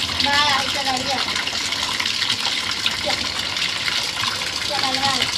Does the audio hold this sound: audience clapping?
no